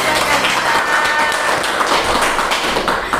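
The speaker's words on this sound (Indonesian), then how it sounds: "Tepuk tangan dong teman-teman." Friends gathered at a campus talk clap their hands together in a dense, steady patter from start to finish, with a faint voice briefly underneath near the start.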